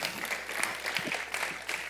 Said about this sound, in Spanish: Un fuerte aplauso para Luis